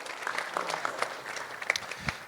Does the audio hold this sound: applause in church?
yes